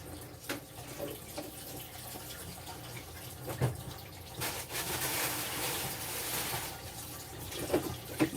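Salty brine from soaking yeolmu kimchi greens runs down a kitchen sink drain, a faint, uneven trickle and splash with a few soft knocks and a louder gush toward the middle.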